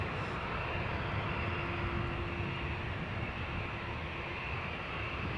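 Heavy jet aircraft at Amsterdam Schiphol Airport give a steady, broad engine roar with a low rumble that holds at even loudness throughout, with no voices.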